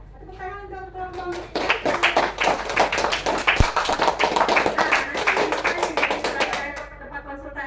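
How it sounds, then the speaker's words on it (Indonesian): A school class claps for a group of students, a burst of close, rapid, many-handed applause lasting several seconds and then fading, with a voice speaking over the start. "Tepuk tangan untuk kelompok."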